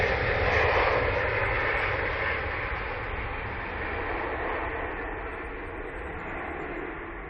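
Finnair airliner bound for Helsinki at Manchester Airport, a steady loud broadband jet roar that holds throughout and fades slightly toward the end, with no voices.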